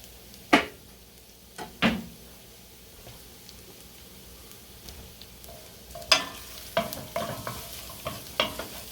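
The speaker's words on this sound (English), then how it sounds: "let those shallots sweat down a little bit" Shallots sweat in a pan for pumpkin risotto with a faint steady sizzle, broken by sharp clanks and scrapes of stirring against the pan, close by without talk.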